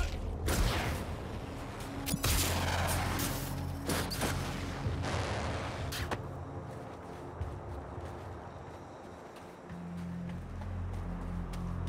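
Gunfire in Suicide Squad: Kill the Justice League, with rapid bursts of shots, booms and mechanical clatter over a low rumbling game soundscape, dense at first and then thinning out into a quieter drone.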